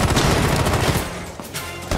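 Rapid automatic gunfire from a shooter video game, loud and continuous bursts filling the whole moment with dense, crackling shots and only a slight dip partway through.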